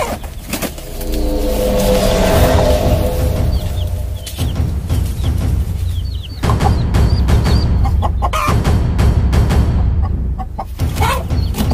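A mother hen defends her chicks against an attacking eagle, with loud agitated clucking and squawking near the start, then a jumble of scuffling, wing beats and sharp cries, close and continuous.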